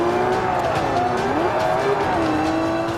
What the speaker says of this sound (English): the howl of a roaring engine